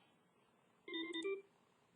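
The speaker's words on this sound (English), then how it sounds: "Uh-oh, I'm getting a phone call." A phone gives a short electronic ring tone, a brief bright burst of beeping tones lasting about half a second against a quiet room.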